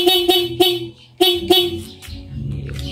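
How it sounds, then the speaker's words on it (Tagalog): Vehicle horn being tested in short bursts: about five quick honks in a rhythmic series, then a longer toot, loud and close over a low engine rumble. "Tapos itong busina."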